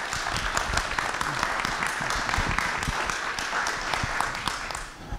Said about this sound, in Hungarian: Egy nagy tapsot szeretnék kérni neki.